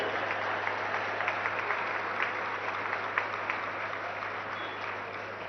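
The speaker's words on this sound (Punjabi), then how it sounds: "ਇੱਕ ਵਾਰੀ ਆਪਣੇ ਆਪ ਲਈ ਜ਼ੋਰਦਾਰ ਤਾੜੀ ਮਾਰ ਲਓ" A crowd of schoolchildren gathered for a march-past event claps steadily, a continuous wash of applause heard from some distance, fairly faint and without pauses.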